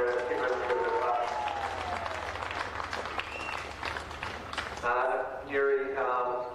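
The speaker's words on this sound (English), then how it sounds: "Yeah, give them a round of applause." A crowd at a school knockout grand final, Henley High School against Adelaide High School, applauds first-time champions, with thick clapping and cheering mixed with voices before a speaker takes over near the end.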